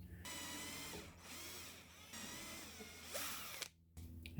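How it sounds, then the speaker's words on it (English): An electric drill with a fine bit bores a pilot hole into an old timber A-frame ladder, whining steadily in bursts with brief pauses, loud and close, no talking. "Now we want to make sure our finer drill bit will go deep enough"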